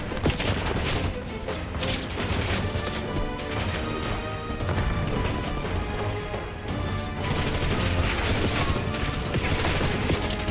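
An explosion-heavy firefight in Call of Duty Black Ops 6 as a grenade is thrown and detonates, with loud, dense bursts of gunfire and blasts that continue steadily throughout.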